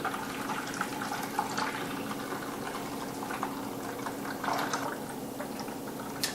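Home-brewed beer runs through a siphon into a bottling bucket, a continuous gentle trickling and bubbling liquid flow, close and steady throughout.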